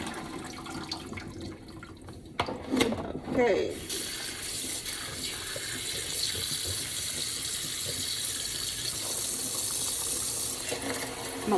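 Tap water runs steadily into a sink while a pork roast is washed for tamales, a constant broadband rush filling most of the clip after a few short clatters, with a brief spoken word near the start.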